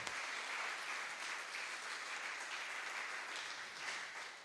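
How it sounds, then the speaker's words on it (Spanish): Sustained applause from a church congregation during a Sunday service, a steady dense wash of many hands clapping at moderate level without a break. "Denle un fuerte aplauso al Señor."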